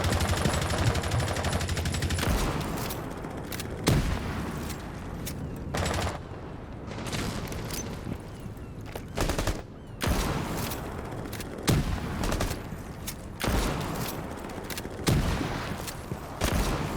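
Rapid gunfire bursts from a player shooting in a PC shooter video game, loud and dense, with automatic volleys broken by short pauses and sharp single shots throughout.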